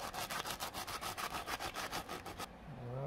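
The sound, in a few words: rubbing a block with hand sanitizer to remove silicone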